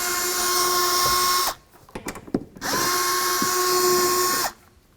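A power drill removes the two center hinge nuts on the third brake light of a 2007-2014 Cadillac Escalade, sounding in two loud, steady whirring bursts of about a second and a half each, with a short pause of small clicks between them.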